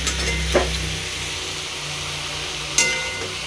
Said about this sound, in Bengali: এটাকেও ভালো করে ভেজে নেব।